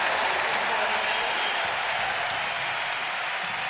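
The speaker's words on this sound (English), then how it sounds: "Wardlow subbed out and got a great round of applause and cheers from the fans" Fans applauding and cheering at a Big Ten volleyball match between Wisconsin and Purdue, a dense, steady wash of clapping and crowd noise filling the arena throughout.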